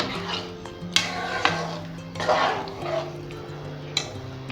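Vegetables and masala for pav bhaji are stirred together in a pan, with a metal spoon scraping and clinking against the pan at irregular moments over a steady low hum.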